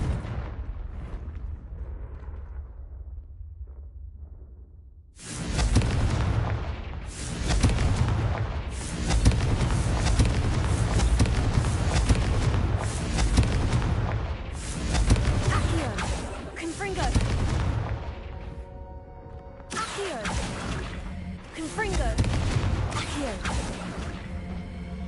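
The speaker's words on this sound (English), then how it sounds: "a Confringo cast travels a bit farther than that of a spell like Incendio" Fire spells Confringo and Incendio cast repeatedly in the Hogwarts Legacy video game, producing loud bursts and booming blasts in quick succession after a quieter opening, with game voices in between.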